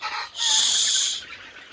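A 45-day-old Egyptian Fayoumi chicken on a farm gives a single drawn-out, high call lasting about a second, close and clear with little else around it.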